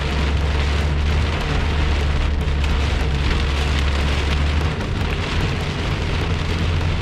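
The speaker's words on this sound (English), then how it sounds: "noticing how hard the rain was falling" Heavy rain pounds a surface in a steady, loud, dense roar during a storm chase, with low rumble underneath and no talking.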